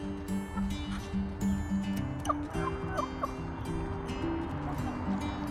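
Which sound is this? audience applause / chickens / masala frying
chickens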